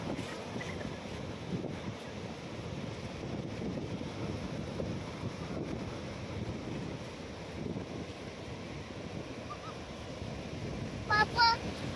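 Strong wind in rough, stormy sea weather buffets the microphone in a steady, rough roar throughout, with water or surf noise beneath and a brief voice near the end.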